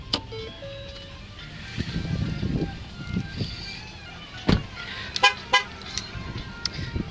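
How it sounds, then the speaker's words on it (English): A 2014 Ford Flex Limited with a 3.5 liter V6 EcoBoost gives short horn toots as it locks with the key outside the car, heard near the start amid outdoor car-lot noise and clunks. "It honked because I have the key outside the car."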